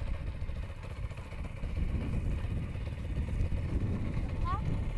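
A motocross motorcycle's engine runs in a continuous low, rough drone as the clutch is let out to pull away during a training session, with talk over the top.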